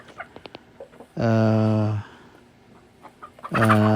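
A hen gives a loud, drawn-out squawking cluck, followed by quieter clucks from other hens and another loud call starting at the end.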